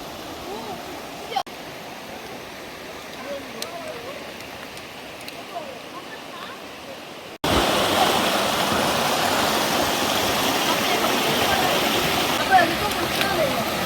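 A mountain valley stream near Seoknyeong Valley on Sori Mountain, Yangpyeong, South Korea, rushes and gurgles steadily, quieter at first and then suddenly louder and fuller as the water sounds come closer.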